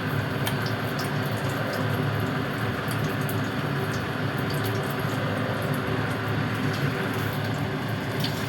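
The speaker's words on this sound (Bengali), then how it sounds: "এইভাবে আমি পুরো এটাই ভেজে নেব।" Katla fish belly pakoras fry in hot oil, giving a steady, close sizzle with scattered crackles and pops that runs continuously, with no talk.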